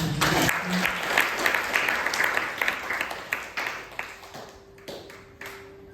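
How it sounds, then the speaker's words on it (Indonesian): Applause from a church gathering audience starts strong and thins out, individual claps growing sparse and distinct toward the end, with a brief voice at the start. "Luar biasa, tepuk tangan dulu"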